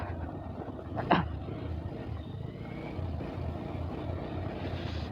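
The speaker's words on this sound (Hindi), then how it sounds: "नाइट पे तो ट्रैफिक तो होगा गाइस ना, इवनिंग पे तो ट्रैफिक होगा, नाइट पे भी ट्रैफिक होगा।" Night street traffic in Diphu market, Karbi Anglong, rumbles as a low continuous wash of engines, with one brief sharp burst standing out early and no talk.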